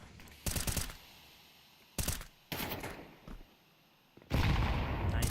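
A grenade popping in a Counter-Strike match: sharp loud bursts separated by short gaps, each followed by a lingering hiss, ending in a sustained roaring blast.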